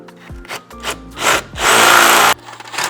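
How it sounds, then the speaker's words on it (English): A drill bit is rolled around inside freshly drilled holes to clean up their edges on a Mercedes Sprinter NCV3 van. A few short scraping bursts lead into a loud, sustained grinding rasp of under a second, up close, with no talking. "all I'm doing is just kind of rolling the drill bit around just to kind of clean up those edges a little bit"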